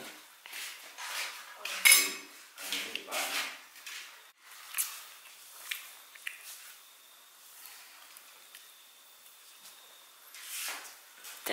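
Plates and cutlery being washed by hand, with repeated clinks and clatters coming in irregular bursts, close by and fairly quiet against a still background.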